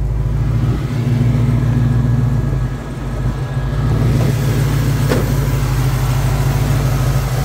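A big block 1981 Chevrolet C10 with automatic transmission, custom exhaust and Holley carburetor idles steadily and loudly up close, its deep rumble continuous with a brief dip and slight rev midway.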